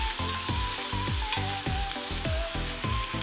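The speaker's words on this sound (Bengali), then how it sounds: "মশলাগুলো কিন্তু দিতে হবে আর নাড়াচাড়া করতে হবে।" Onion, ginger and garlic paste fries in a pan for chicken korma, a loud steady sizzle broken by rhythmic scraping strokes as the spoon stirs about twice a second, with no talking.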